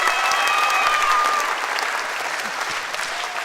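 Studio audience at a televised dance competition breaking into loud, sustained applause, many hands clapping steadily with a few whistles on top, slowly easing.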